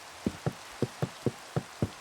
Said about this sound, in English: I'm so happy the rain started.